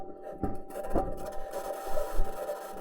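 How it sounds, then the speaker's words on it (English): Perseverance rover rolling on its metal wheels across the Martian surface, a faint scraping and creaking with a steady high whine and soft irregular knocks. "This is the sound of the Perseverance rover driving on its metal wheels."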